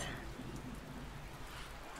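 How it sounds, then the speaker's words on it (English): Steady rain falls in a soft, continuous patter with a faint hiss, even and unbroken throughout, with no voices over it. "Oh, wait, it's raining."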